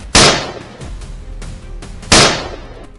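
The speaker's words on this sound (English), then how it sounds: "As the herd entered his line of sight, he opened fire." Gunfire during a wild boar hunt: two sharp, loud shots about two seconds apart, each with a decaying echo. Fainter pops and cracks sound between them, like more distant shots.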